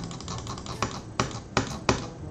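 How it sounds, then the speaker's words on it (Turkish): Computer keyboard keys clicking, picked up by a Logitech C922 Pro HD Stream webcam microphone: a quick run of light taps followed by four louder, evenly spaced key strikes, close and clear over faint room hiss. "Klavye sesi."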